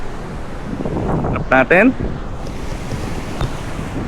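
Strong surf on a white-sand beach at Duli Beach, El Nido, Palawan, a steady broadband wash of waves and wind, with a voice speaking briefly over it.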